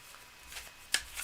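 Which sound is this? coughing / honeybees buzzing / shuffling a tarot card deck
shuffling a tarot card deck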